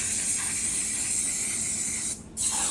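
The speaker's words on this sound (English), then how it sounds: "We sprayed it down thoroughly using a throttle body cleaner" Throttle body cleaner sprays onto a motorcycle throttle body during a major service on a Kawasaki Versys 1000, a steady close hiss that breaks off briefly near the end before resuming.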